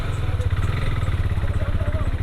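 Motorcycle engine idling up close on a cold morning in the Ladakh mountains, a steady low rumble with a throbbing rhythm and faint mechanical clatter, running continuously with some voice nearby.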